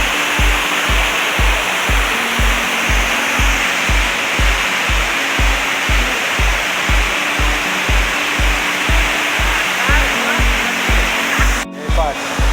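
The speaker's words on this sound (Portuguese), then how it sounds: "Chegamos aqui na Cachoeira do Alemão." Broadband roar of the Cachoeira do Alemão waterfall fills the scene steadily and loudly, with a regular low pulsing thump running beneath the rushing water throughout.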